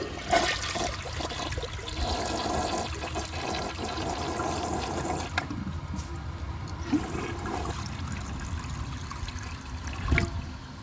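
A 1999 Porcelamex toilet flushes in a continuous loud rush of water that runs for about ten seconds, gurgling and trickling as the bowl drains and refills nearby.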